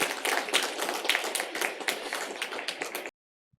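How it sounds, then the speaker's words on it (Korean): Church congregation giving a round of encouraging applause, a busy, even wash of many hands clapping for three seconds before cutting off abruptly into silence. "우리 한번 격려의 박수 하겠습니다."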